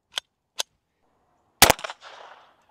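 .22 caliber rounds fired at a cinder block wall outdoors: two short dry cracks, then a louder sharp shot with a brief rattling echo that trails off, all with clear silence between them.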